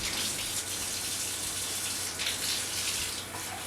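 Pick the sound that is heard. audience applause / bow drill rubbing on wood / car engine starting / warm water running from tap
warm water running from tap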